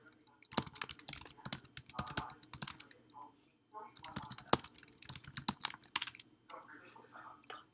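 Rapid clicking keystrokes on a computer keyboard as a message is typed, coming in irregular bursts with brief pauses, close and fairly quiet, with faint voices underneath.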